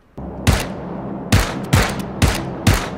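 Loud, close gunshots in PUBG, five separate blasts at irregular intervals, each with a short boom and a fading tail.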